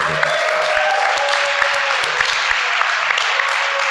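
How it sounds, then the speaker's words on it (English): An audience at a recovery testimony gathering gives a warm round of applause after a heartfelt talk: sustained, even clapping from a seated group, close and steady throughout with a few sharper individual claps. "Let's have a nice round of applause for Mark."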